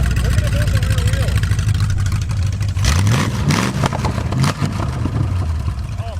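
An abandoned muscle car, started for the first time in 35 years, runs with a steady, rough engine drone that rises into revving surges partway through, loud and close throughout.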